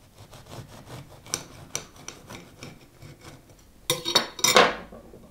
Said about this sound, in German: hole ich mal einen Teller und ein Messer und dann schneiden wir alle auf